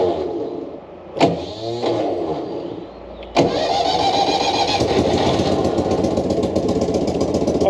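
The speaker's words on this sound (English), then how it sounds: "There we go, the roar of all those cylinders." An abandoned military vehicle's engine cranks in two short bursts, then catches and settles into a loud, steady multi-cylinder roar, close by with no talking.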